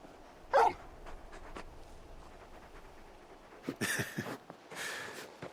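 Torgal, a large dog in Final Fantasy XVI, gives soft whimpers and short yips in a quiet game scene, one brief sound early and a few more near the end.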